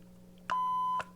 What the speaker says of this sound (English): Bear, you want to buzz the buzzer?